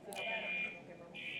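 An electronic alarm goes off during a church sermon, a steady high buzzing tone that cuts out briefly and resumes, with a preacher's voice murmuring underneath.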